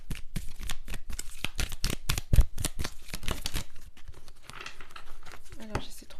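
Tarot cards being shuffled and drawn during a short reading, a rapid run of papery riffles, slaps and flicks close by, with a person talking over them throughout.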